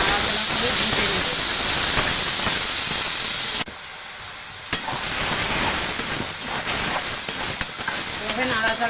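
Korma ingredients with salt and turmeric fry in a pan with a steady loud sizzle and stirring scrapes, dipping briefly near the middle before resuming.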